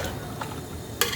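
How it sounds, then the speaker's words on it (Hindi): Paya masala roasting in a pan sizzles quietly as a spoon stirs it, with a few soft scrapes and one sharper scrape near the end. "अब इसको हम भून लेंगे अच्छी तरीके से।"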